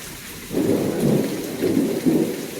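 Heavy rain pours down steadily during a thunderstorm after months of drought, with low rumbling thunder swelling in repeated waves beneath the constant downpour, no voices present.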